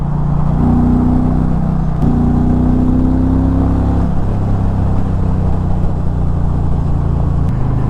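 A 2024 Indian Pursuit motorcycle with a liquid-cooled engine runs on the highway in sport mode. It gives a loud, steady drone with rising pitch as it pulls through the gears, and a gear change is heard partway through.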